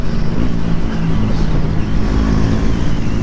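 A Bajaj Pulsar NS 400Z motorcycle runs at sustained speed, a loud steady engine drone mixed with heavy wind noise and no clear rise in pitch.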